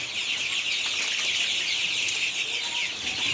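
A dense, continuous chorus of 18-day-old chicks on a poultry farm peeping and clucking close by, many birds calling over one another without pause.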